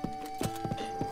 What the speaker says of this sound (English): I would like to take a horse and I would like to take Epona, please.